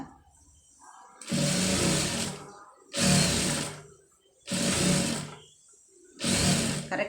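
A sewing machine runs in four separate bursts of about a second each, stitching piping along a fabric edge, loud and close with short quiet gaps between runs.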